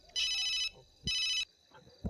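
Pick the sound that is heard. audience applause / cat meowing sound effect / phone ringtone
phone ringtone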